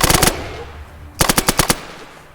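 Long submachine gun burst in ATOM RPG, with a quick volley of shots at the start and a second run of about six loud, evenly spaced rounds later. No one speaks.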